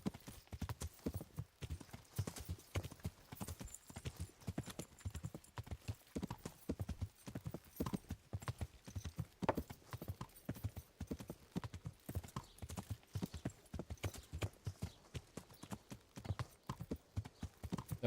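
Horse hooves pound in a fast, steady gallop through the Kingdom Come: Deliverance video game, a dense run of close, loud thuds with a short whinny and faint bits of talk mixed in.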